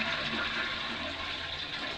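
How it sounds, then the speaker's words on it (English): A toilet flushes with recycled grey shower water, a close steady rushing and swirling of water filling the bowl throughout. "every time I flush the toilet"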